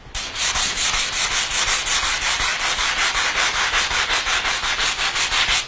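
Rhythmic back-and-forth strokes of wet sanding rasp across a marble stone sculpture during finishing, loud and close, with an even, repeating scrubbing pulse and no voices.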